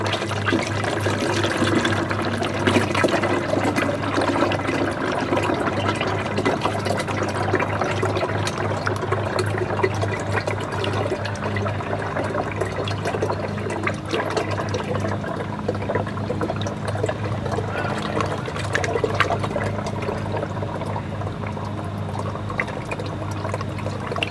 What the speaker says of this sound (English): all I'm doing is just pouring this fluid in here